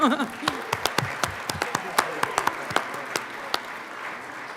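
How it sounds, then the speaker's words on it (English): Round of applause in a state Senate chamber, a moderate scattering of distinct claps over a thinner wash, loudest at the start and gradually thinning out, with a voice briefly audible near the beginning. "Let's give that, that desire a round of applause."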